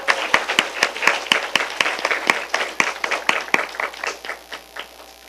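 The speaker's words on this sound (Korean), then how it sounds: "모시고 박수로 맞이해 주세요." An audience claps to welcome a speaker at a lecture concert, a burst of dense, loud applause that gradually thins and softens toward the end, with no talk.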